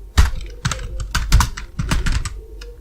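Rapid typing on a computer keyboard, a close run of crisp uneven key clicks and thumps with short pauses between bursts.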